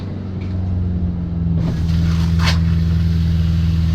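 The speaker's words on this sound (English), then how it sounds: "you're going to want to go ahead and turn your pump back on" An RV's onboard water pump runs with a steady low hum while winterizing, and water rushes and hisses over it as a line opens partway through.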